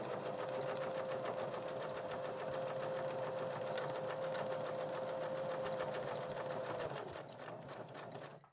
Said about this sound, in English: So you're going to just crisscross this fabric all across with your stitching.